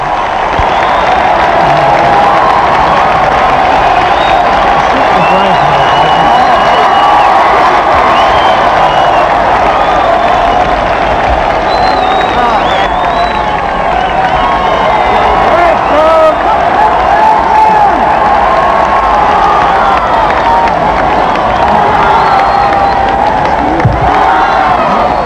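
Huge crowd outside Buckingham Palace roaring approval for the royal couple on the balcony at the 1981 royal wedding, a loud, unbroken sea of cheering, shouting and applause lasting the whole stretch.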